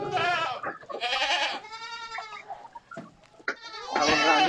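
Several goats bleat in quavering, overlapping calls, some close and loud, with brief pauses between cries and a faint voice underneath.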